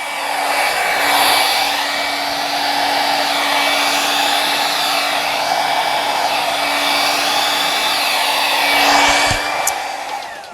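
A hair dryer blows continuously at close range over wet poured acrylic paint, a loud, even whir with a steady motor hum that barely changes throughout.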